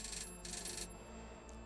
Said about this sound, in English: Frank, your phone's ringing